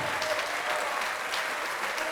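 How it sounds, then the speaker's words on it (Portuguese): A church congregation applauds steadily, a dense, continuous wash of many hands clapping at moderate volume without pause, with no clear voices above it. "Vamos aplaudir ao nome de Jesus."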